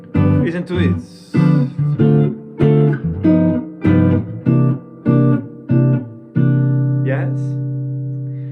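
Jazz-style blues chord progression played as a series of evenly spaced, short stabbed chords, followed by a final chord left to ring and slowly decay.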